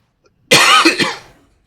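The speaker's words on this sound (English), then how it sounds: "Sorry, I got a little cough." A single short, close cough, loud and abrupt, then quiet.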